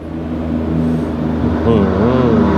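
A new Power Tech Gear Pro tractor engine drones steadily while being driven, a low, fairly loud hum with people talking over it.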